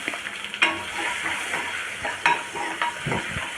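Onion and curry leaves frying in tempering oil with mustard seeds for appam, a steady close sizzle punctuated by a few sharp pops and spatters.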